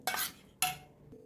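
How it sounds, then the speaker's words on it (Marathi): A spoon clinks twice against a bowl while curd is whisked smooth for dahi vada, two bright close strikes with a quiet pause between them. "आता हे छान असं फेटून घ्यायचं चमच्याने आपल्याला स्मूथ झालं पाहिजे एकदम दही"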